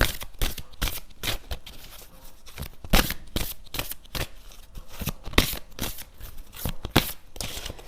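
Tarot-style cards are handled and riffled during a card reading, giving rapid, close, crisp slapping and fluttering bursts in an uneven rhythm.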